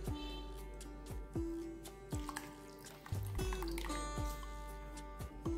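Food is washed by hand in a bowl of clean water, with soft drips, trickles and small squishing splashes coming in irregular bursts close by and fairly quiet.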